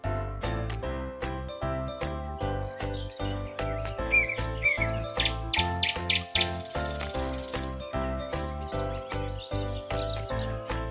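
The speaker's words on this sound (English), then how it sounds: "Nightingale." Nightingale song: bright chirps and trills over a steady, rhythmic musical backing with tinkling accents, continuing throughout at moderate loudness.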